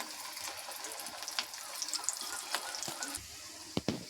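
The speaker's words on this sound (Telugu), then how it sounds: "చూడండి బాల్స్ అలా వేగుతున్నాయి నూనెలో." Banana balls, a spiced raw-plantain Andhra snack, frying in hot oil, with a steady close bubbling hiss and a few sharper pops and spatters near the end.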